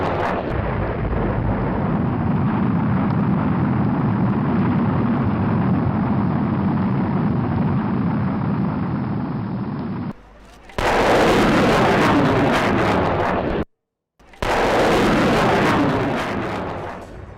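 Akash short-range surface-to-air missile test launch striking an aerial target: a long, loud sustained roar of rocket blast and rumble, followed by abrupt cuts to further loud bursts of blast noise.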